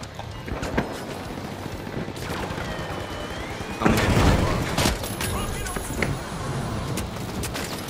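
Gunfire in the game THE FINALS under steady talk, scattered shots and a louder blast midway over a busy background of game noise, with a player speaking throughout.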